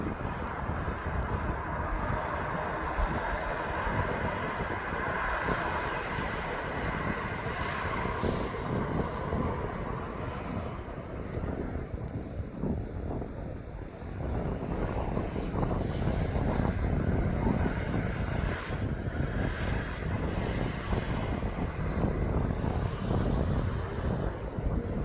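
An airliner at East Midlands Airport produces a continuous roaring jet rumble with wind buffeting the microphone, holding steady and swelling slightly louder in the later part.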